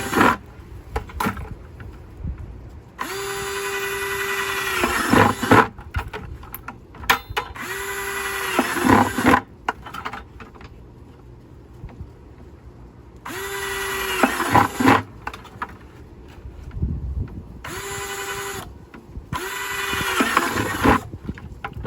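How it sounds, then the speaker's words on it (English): A power drill whines in several bursts with pauses between, grinding through a plastic 5-gallon bucket at close range; the motor pitch rises and falls with each run. "So we're going to drill about right here."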